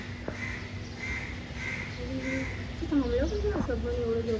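A bird calls at a window with a few harsh, crow-like caws and squawks, fairly close but quiet, over a steady background hum with faint voices nearby.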